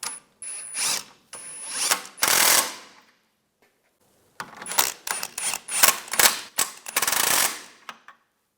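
Ratchet wrench tightening shock bolts on the rear suspension of a 1998-2010 Volkswagen Beetle during a coil spring replacement, heard as two bursts of rapid close clicking separated by a short pause, with no talking.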